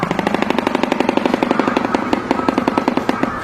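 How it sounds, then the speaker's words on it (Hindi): A shoebill makes its rapid bill-clattering call, a loud, close machine-gun-like rattle of evenly spaced sharp knocks that continues without pause for a few seconds. "नंबर 1 शोबिल। इसकी आवाज को सुनकर आपको ऐसा लगेगा जैसे कहीं पर खतरनाक बंदूक चल रही हो।"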